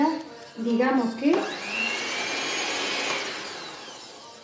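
A steady motorized whir of an electric hand mixer beating orange sponge cake batter continuously, with a brief shift in pitch near the start and no clear talking.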